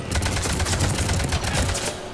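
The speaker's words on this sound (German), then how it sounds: "Sturmgewehr echt ordentlich Wumms" Rapid bursts of assault rifle fire in Mass Effect 3 rattle continuously, loud and close, with dense repeated cracks that taper off at the end.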